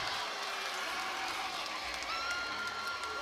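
Home crowd in an FIU basketball arena roaring during a late-game timeout against Western Kentucky, a dense, sustained wall of cheering and clapping with whistles and shouts piercing through.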